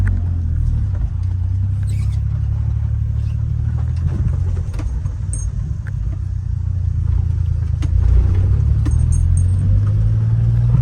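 A Honda mini truck drives in second gear around a farm, its small engine a steady, close, loud rumble with rattling and jostling noises throughout.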